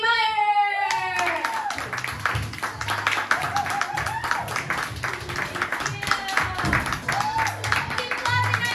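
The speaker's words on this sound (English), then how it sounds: "Keep clapping, I need it!" A comedy club audience claps steadily and close-up for a comedian, with scattered whoops and cheers riding over the dense clapping and brief voices at the start.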